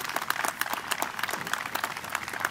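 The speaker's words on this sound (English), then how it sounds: "another round of applause for our singer, Julian, and Stephen for being with us this morning." Outdoor audience applause for a singer at a township Memorial Day ceremony, moderate and steady with distinct individual claps over about two and a half seconds.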